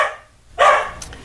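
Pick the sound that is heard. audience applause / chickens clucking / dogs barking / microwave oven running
dogs barking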